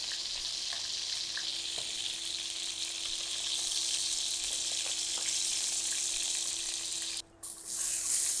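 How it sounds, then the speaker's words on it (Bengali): Chicken pieces frying in a pan, a steady close sizzle of hot oil holding evenly for several seconds, with a brief dip near the end before the hiss resumes. "চিকেনগুলো আমি 4 থেকে 5 মিনিট ভেজে নিলাম উল্টিয়ে পাল্টিয়ে।"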